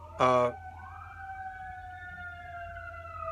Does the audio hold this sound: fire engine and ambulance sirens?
yes